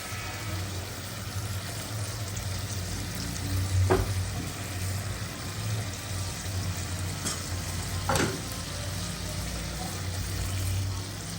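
Fish fries in a dark, thick spice masala in a pan for a home-style bhuna, giving a steady, soft sizzle with a couple of sharp spatula scrapes, heard close and alone.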